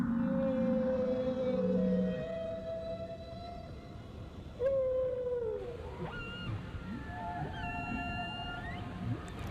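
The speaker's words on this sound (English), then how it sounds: "cast their song into the sea with a thunderous voice" Whale song carries through the sea in faint, drawn-out tonal moans and rising and falling whoops, several calls following one another over a low undersea rumble.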